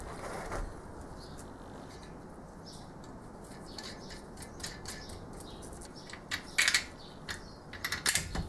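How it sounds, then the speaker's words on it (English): An electric motor drives a countershaft for a metal shaper, making a quiet mechanical whir with light ticking and rattling clicks that grow busier toward the end. "Here is the motor."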